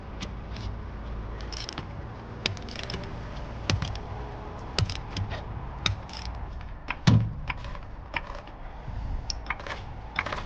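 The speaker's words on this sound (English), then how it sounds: "let's go jack it up" A Vauxhall Corsa B is jacked up, giving a series of irregular creaks and mechanical clicks close by, with one louder knock partway through.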